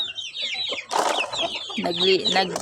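Mother hen clucking in a backyard pen alongside her chicks, close and fairly loud, with quick chirping calls running through short continuous phrases.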